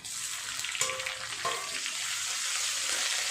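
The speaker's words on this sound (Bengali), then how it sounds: "এটা ভালো করে ভেজে নিয়ে পেঁয়াজ রসুন, তারপর বাকি মশলাগুলো দিয়ে দেবো।" Onion, garlic and ginger paste fry in a pan, a continuous soft sizzle with a couple of faint utensil clinks early on, steady and close with no talking.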